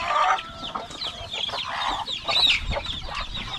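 Chickens cluck repeatedly at close range on a rural farm, the cackling rising and falling in short bursts with one hen eager to lay, with no voices over them.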